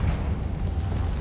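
The Confringo explosive spell in the Hogwarts Legacy video game erupts as a dense, rumbling blast that fills the clip with loud, continuous low booming and crackle, with no voices over it.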